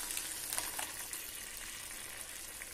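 Loud, steady sizzling as a yogurt, cashew and ginger-garlic masala hits hot oil, a continuous crackling hiss with no talking.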